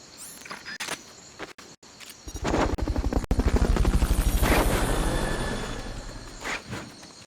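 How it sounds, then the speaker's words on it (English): Fulton recovery helicopter in a Metal Gear video game rises from a few sharp clicks into a loud, pulsing rotor roar that swells, holds, then slowly fades. "Fulton recovery helicopter is complete."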